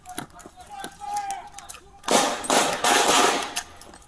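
Police officers' gunshots at a precinct shooting scene: several sharp scattered reports, then a dense loud cluster of rapid overlapping shots with bursts of noise, some voices shouting faintly amid the fire.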